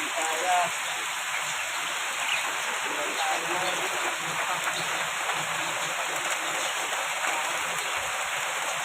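Steady typhoon rain hiss pattering on a surface in Manila, continuous and fairly close throughout, with faint voices murmuring in the background.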